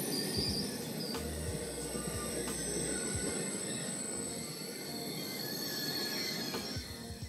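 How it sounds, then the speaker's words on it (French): A train passes on rails at a moderate distance with a steady rumble and repeated wheel squeals and clicks, while insects chirp faintly in the background. "la majeure partie du bruit qui est émis au passage du train"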